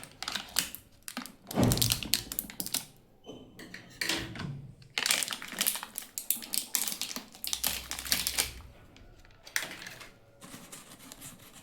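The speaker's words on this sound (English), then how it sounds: "So let's cut the seal out and check it." Knife cutting through the foil seal on an Optimum Nutrition Gold Standard 100% Whey Protein tub, heard as a close series of irregular scraping, tapping and crackling bursts with brief pauses, no talking.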